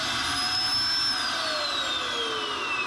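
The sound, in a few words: Vanpore ash vacuum running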